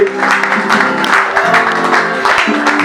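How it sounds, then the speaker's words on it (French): A slam poetry evening audience applauds a man in the hall. Clapping is dense and continuous and sits under a steady wash of crowd noise, fairly loud and close. "Est-ce que monsieur Ibrahim est dans la salle? Est-ce qu'on peut l'applaudir s'il vous plaît?"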